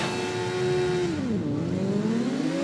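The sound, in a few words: racing motorbike engine revving at race start, video game TT Isle of Man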